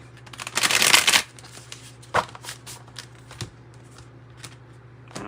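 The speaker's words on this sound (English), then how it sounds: "One more good shuffle, and then we'll cut the deck." A tarot deck is riffled and shuffled by hand in a quiet room, a dense burst of crisp card flutter up front followed by a few softer taps and shuffles, with no talking.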